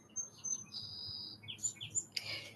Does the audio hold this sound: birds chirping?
yes